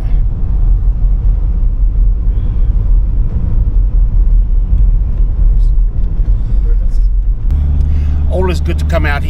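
Car rumbling past on a suburban street in Porirua, a steady low roar heard from inside a moving vehicle, with someone talking over it near the end.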